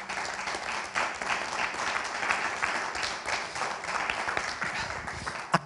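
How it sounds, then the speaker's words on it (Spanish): A church congregation claps together during a sermon, a steady mid-level patter of many hands lasting several seconds, with a louder clap near the end. "¿Alguien puede aplaudir al Padre?"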